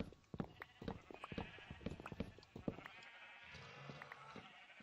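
Several sheep in Minecraft bleat repeatedly, overlapping one another at moderate distance, over a steady background hum.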